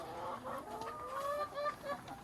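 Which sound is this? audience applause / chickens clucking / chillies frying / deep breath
chickens clucking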